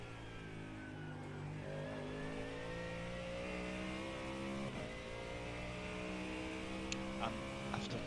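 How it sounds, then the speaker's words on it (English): A race car engine in the iRacing sim during a 12-hour Bathurst endurance race holds a steady sustained drone, rising gradually in pitch like a long acceleration, with a few short clicks near the end and no talk. "After 12 hours, I'm not tired of the engine sound."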